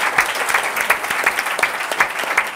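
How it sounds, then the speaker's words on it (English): A crowd at a hip hop and R&B panel claps steadily, a dense patter of applause at an even level throughout, fairly close and with no voices standing out. "Let's give a round of applause."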